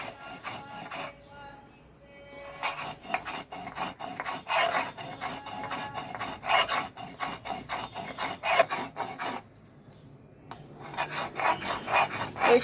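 Green chili being ground with bottle gourd leaves on a flat grinding stone, a steady run of close, rough rasping strokes in repeated bursts, pausing briefly around the middle before resuming.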